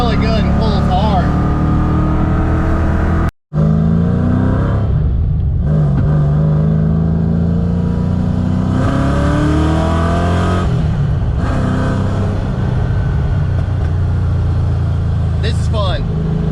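A 331 stroker Fox body Mustang engine revs and sputters at low RPM, loud and close, bucking unevenly before rising, with a brief cut and people talking throughout.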